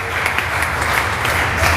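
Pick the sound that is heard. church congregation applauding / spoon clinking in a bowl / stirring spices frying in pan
church congregation applauding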